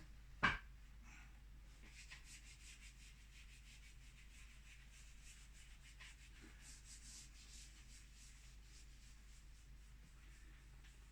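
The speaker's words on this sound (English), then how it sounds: "There's my trusty eraser for you" An eraser rubs across a seascape drawing in quiet, repeated scratchy strokes after a single soft knock at the start.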